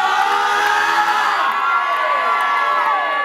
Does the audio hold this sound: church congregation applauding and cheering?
yes